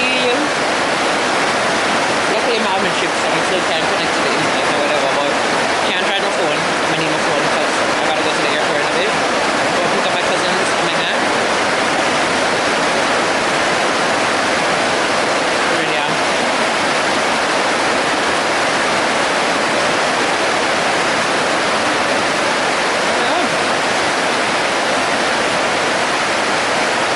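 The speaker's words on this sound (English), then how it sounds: "Looking at the river. Looking at the rain in the grass." Steady rain pours onto grass beside a river in Jamaica, a dense, even hiss that runs unbroken and fairly loud throughout.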